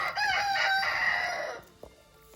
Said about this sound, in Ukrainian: Півник.